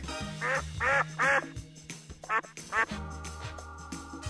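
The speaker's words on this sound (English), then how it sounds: "duck," Farm duck quacking in a kids' animal vocabulary lesson: a run of several sharp, nasal quacks in an uneven rhythm, close over light background music.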